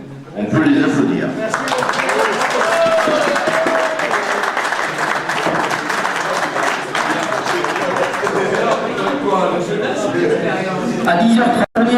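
A crowd at a hare-hunting hound pack contest applauds a pack of dogs, with loud, sustained clapping for about twelve seconds mixed with voices and crowd murmur, ending abruptly.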